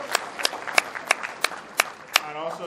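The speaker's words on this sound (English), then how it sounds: "we can give her another round of applause" Audience at a pharmacists' association conference clapping in a quick, fairly close burst of distinct claps, with a voice starting up at the very end.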